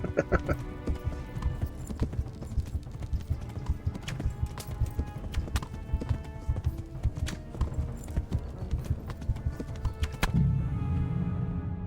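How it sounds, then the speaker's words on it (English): Horse hooves clatter in a fast, steady clip-clop rhythm throughout a galloping ride in the medieval video game Kingdom Come: Deliverance, loud and continuous, with the texture shifting to a denser rumble near the end. "I'm doing the gallop thing, and the horse isn't, like, really going much faster"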